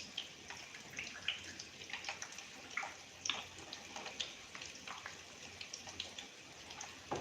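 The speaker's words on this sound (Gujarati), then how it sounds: "અહીં આપણે 2 ચમચી જેટલું પાણી નાખીશું." Water trickles into a small bowl holding lemon for a corn dhokla batter, a faint, steady splashing with small droplet patters throughout, close by and soft with no talking.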